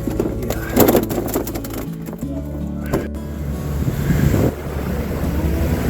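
A fishing boat motors slowly across Crescent Lake in the morning, a steady low engine drone mixed with wind buffeting the microphone and water splashing, close and continuous with no talking.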